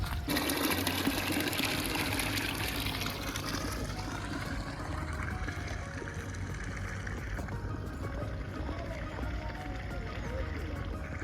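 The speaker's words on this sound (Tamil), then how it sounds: "தண்ணி நல்லா ஃபோர்ஸாக வந்துட்டு இருக்குதுங்க தண்ணி." Water rushes and gurgles strongly and continuously through a field channel in Pollachi, a close, churning flow with a voice speaking over it.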